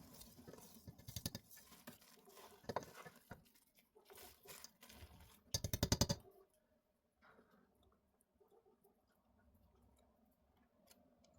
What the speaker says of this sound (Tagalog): Ilagay na ang dry ingredients gaya ng coconut flour, baking soda, salt, at cocoa powder, saka i-mix ito hanggang mag-combine ang lahat ng ingredients.